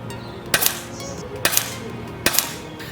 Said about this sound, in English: Let's quickly do a 5-shot group, but this time with the bent little babies.